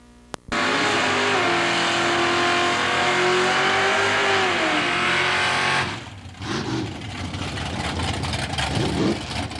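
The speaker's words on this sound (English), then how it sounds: "number 628, that's Bob Lindsay with a 312 cubic inch Ford Y-Block Roadster" Drag racing at a strip: a 312 cubic inch Ford Y-Block roadster and a 1968 Camaro with a 502-inch big block launch with a loud, sustained roar that climbs in pitch as they accelerate away, then fades into distant engine noise.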